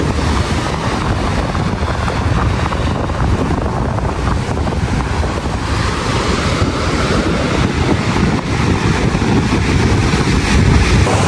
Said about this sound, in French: Ah bah ça y est, on est posé sur la plage.